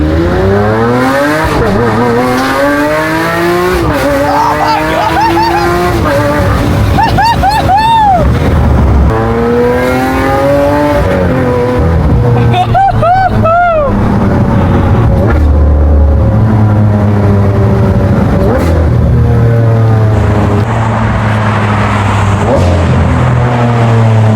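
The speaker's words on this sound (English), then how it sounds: "Let's do one more launch." Lamborghini Aventador LP-700 launching hard in Corsa mode, a very loud roaring engine climbing through rising revs with several sharp gear shifts, close by, with voices talking over it.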